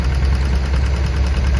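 A Model 95 antique tractor engine runs at a steady low rumble while pulling a people-moving cart in a parade at an antique tractor and steam engine show, loud and close with a constant chugging drone and no voices.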